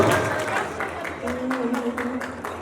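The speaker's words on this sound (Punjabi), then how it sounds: "ਜ਼ੋਰਦਾਰ ਤਾਲੀਆਂ ਕੱਟੋ ਜੀ" An audience at a Lohri celebration in Faisalabad claps for arriving guests, a steady run of applause at moderate distance that begins under talk and grows fuller toward the end.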